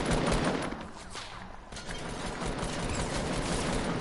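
Rapid automatic turret gunfire in a multiplayer video game, a dense continuous burst of loud shots that dips briefly then resumes steadily.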